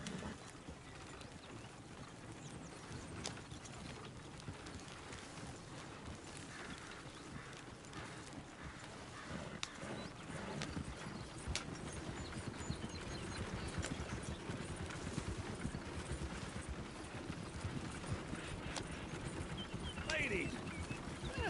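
Horse hooves clip-clop steadily at a trot during a ride in Red Dead Redemption 2, a continuous rhythmic patter beneath ambient outdoor sounds, with voices talking over parts of it.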